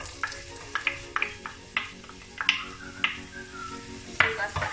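Chopped onions for chicken fried rice hit a hot pan with soft sizzling, punctuated by repeated sharp clinks and scrapes of a utensil stirring at an irregular pace.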